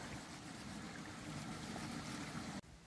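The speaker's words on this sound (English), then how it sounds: "got a little waterfall." Water rushes steadily from a small waterfall on a river, a constant close splashing wash that cuts off abruptly near the end.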